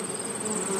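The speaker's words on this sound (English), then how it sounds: "if you walk by a patch of flowers, you hear that buzzing as you get close" Bees buzz close by over a patch of flowers, a steady, dense insect drone heard alone with no voices.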